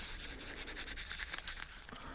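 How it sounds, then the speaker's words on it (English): Sandpaper rubs steadily over a small lead-filled brass hammer, a continuous close scratchy hiss with faint repeated strokes, with no voices. "I'll continue with the sandpaper and polish just for a moment."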